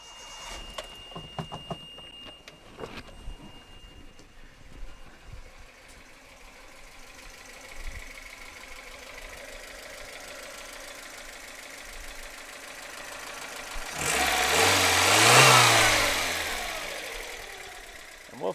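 A Toyota Tercel engine cranking and catching after its spark plug wires were replaced, with clicks and rattles up front, then a steady idle that swells into a loud, rough rev before settling.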